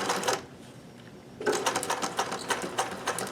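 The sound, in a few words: sewing machine stitching a hem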